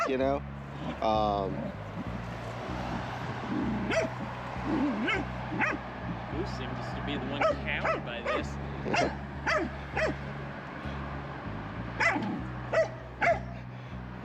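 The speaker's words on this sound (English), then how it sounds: "if the other dog is iffy or barks out of insecurity" Several dogs bark, yip and whimper while playing, their sounds coming in frequent short bursts throughout, with a person talking over them.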